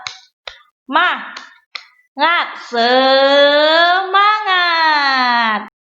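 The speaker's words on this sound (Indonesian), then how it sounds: "kita melakukan tepuk semangat dulu" A Grade 6 class does a tepuk semangat rhythmic clapping chant, a few sharp claps punctuating the start before a loud, drawn-out sung chant carries on alone near the microphone.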